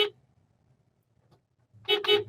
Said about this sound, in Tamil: பெண்டுங்கிறதுனால தான் நான் ஹாரன் அடிக்கிறேன்